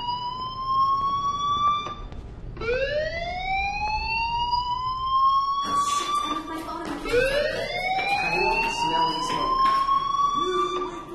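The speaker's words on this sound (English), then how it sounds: "Hey, do you hear that fire alarm?" A fire alarm in the video game Life is Strange sounds as a loud, repeating electronic siren that sweeps upward and holds, several rising wails in a row with background game noise beneath.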